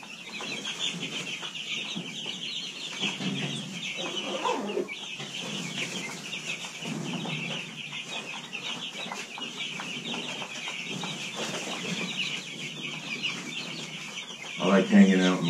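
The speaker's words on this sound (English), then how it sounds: "This is the y'all chicken cam. Enjoy the chicks." Chickens cluck and chatter in a coop, a busy layered flock sound that runs steadily throughout, with a louder burst near the end.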